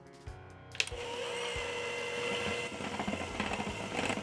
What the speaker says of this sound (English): So with the hand blender on low.